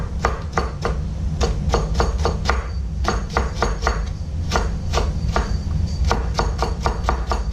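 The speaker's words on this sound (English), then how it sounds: "slice it really thin" A knife thinly slicing and chopping ingredients for kimchi-jjigae on a cutting board, making loud, close, rapid rhythmic chops in quick runs with short pauses.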